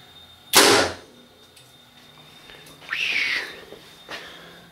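An arrow fitted with a 1.5-inch three-blade broadhead, shot from a 60 lb PSE Evo bow, slams into a stack of boards with a loud sharp crack, followed by quieter scraping and a later thud.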